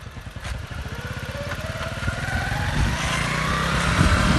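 A motorcycle engine runs close by, with a steady pulsing throb that climbs slowly in pitch and loudness as it is revved, and no voices over it.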